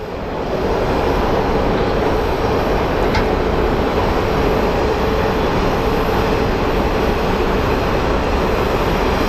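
A Delta airliner departs Phoenix Sky Harbor airport with a loud, steady jet roar that builds within the first second and then holds evenly throughout, broad and rumbling with no talk over it.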